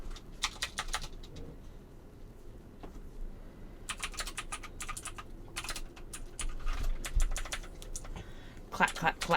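Keys clack on a computer keyboard during a home editing session, coming in quick bursts of close clicks separated by pauses, with soft bird cooing faintly in the background.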